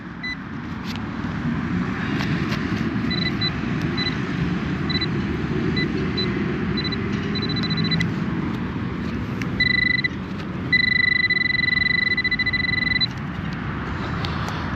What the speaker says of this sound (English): That noise you can hear is bloody hundreds and hundreds of cars getting to this junction.